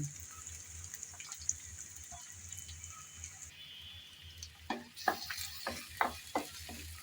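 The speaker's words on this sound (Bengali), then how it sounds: "কিছুক্ষণ নেড়ে চেড়ে ব্রাউন কালার করে ভেজে নেব" Chopped onion and garlic fry softly in a pan with a steady low sizzle, then a spatula scrapes and clatters against the pan in a few quick stirs near the end.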